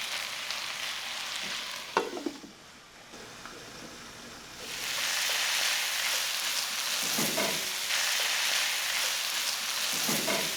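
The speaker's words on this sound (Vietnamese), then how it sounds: "Và mình xào thêm từ 2 đến 3 phút nữa cho cà tím chín và thấm gia vị." Eggplant stir-fried in a pan with shrimp paste sauce gives a steady, bright sizzle that dips briefly, then swells into loud, continuous frying with occasional scraping stirs.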